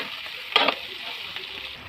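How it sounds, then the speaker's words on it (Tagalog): Potatoes and carrots for dinuguan sautéing in a pan, a soft steady sizzle with one brief louder stir and scrape, close and quiet, no talk. "Pag-gisa muna natin konti."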